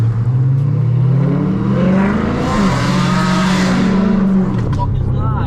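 A BMW M3 revving hard to its rev limiter, a loud, near engine wail that climbs and holds a bouncing, stuttering pitch at the cutoff for several seconds before dropping away.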